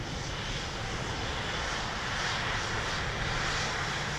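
Emirates airliner departing, heard as a constant broad roar of jet engines at moderate distance, holding an even, unbroken level throughout with nothing else standing out.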